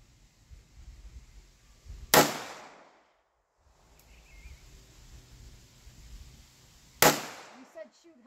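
A handgun fires two sharp, loud shots several seconds apart at an outdoor range, each followed by a brief ringing decay, with quiet background noise between them.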